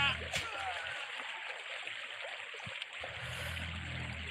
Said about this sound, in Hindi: इतने पानी पे इतना शोर आ रहा है।